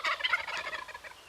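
Wild turkeys gobble in a quick rattling burst nearby, a short, loud trill that fades toward the end, with no talking.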